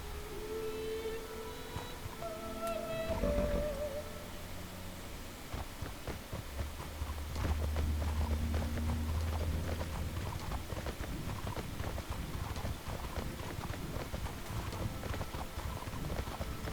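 A horse's hooves clip-clop in the online game Mortal Online, a steady, fairly close rhythm of hoof strikes over a soft, rain-like background hiss.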